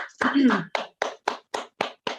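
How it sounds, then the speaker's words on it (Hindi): A voice speaks briefly, then a small group claps in a slow, even rhythm of about six separate claps in welcome. "हम सभी ताली बजा के आपका स्वागत करते हैं।"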